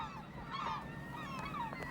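Gulls in flocks calling over the sea on a foggy Newfoundland coast, several raucous squealing cries rising above steady background noise, moderately distant.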